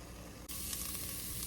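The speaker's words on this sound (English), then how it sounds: "You can hear that sizzle." Beef sears in a hot pan for a soup, a brief quiet gap giving way to a sudden loud, dense sizzle that holds steady and close with no talking.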